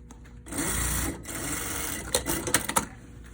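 A sewing machine stitches a seam in trousers at the waist and seat. It gives a steady close whirring run, then a few quick uneven bursts.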